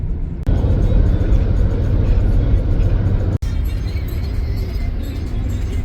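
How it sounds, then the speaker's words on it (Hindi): A car cruises down a highway at around 60 km/h, giving a loud, steady low road rumble and engine drone from inside the cabin, with one brief dip partway through. "चाची गाड़ी चला रहे हैं"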